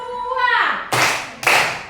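A voice speaks briefly, then two sharp, close hand claps follow in a rhythmic counting exercise, with a short gap between the first clap and the second.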